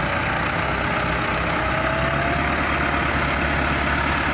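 A steady engine drone runs throughout, loud and continuous with a low rumbling throb, like a heavy vehicle engine idling or chugging nearby.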